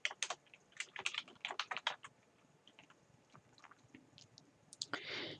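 Quick, light keystrokes tap on a computer keyboard in an uneven run, close and fairly quiet, with a brief pause before a final flurry of clicks.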